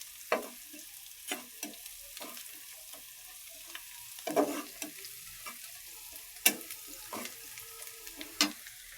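Fish frying in a pan for a pumpkin and fish curry, heard as scattered sharp crackles and spatters against a quiet sizzle, close by, with no talk.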